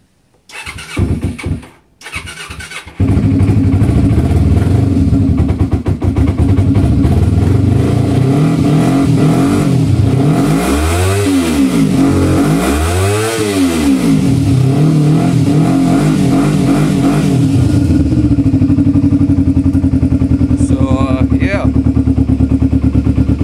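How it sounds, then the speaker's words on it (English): A cold 2000 Kawasaki Ninja 250 motorcycle engine cranks briefly, then catches and idles loudly, with several sharp revs rising and falling before it settles back to a steady idle. "I guess I'll fire it up quick."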